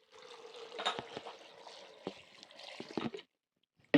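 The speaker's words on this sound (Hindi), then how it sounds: "और डालेंगे थोड़ा सा पानी।" A little water trickles and splashes into a pot of washed meat seasoned with turmeric and salt, a soft, close pour lasting about three seconds before stopping, then a brief clink.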